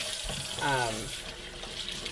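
Cold water runs steadily from a tap while a squirrel leg is rinsed during field dressing, a fairly faint continuous splashing with a brief voice-like tone partway through.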